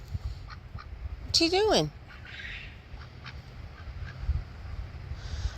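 A pet duck named Donald on a homestead lets out a short burst of loud, close quacks, a rising and falling nasal call, while someone speaks to it briefly amid quiet outdoor background.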